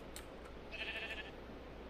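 A single short sheep bleat in modded Minecraft, faint and thin over a low steady background hum, with no talking.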